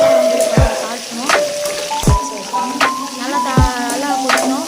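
Oil sizzles and crackles steadily as cumin seeds and onion fry, with sharp clinks of a utensil against the pan every second or so.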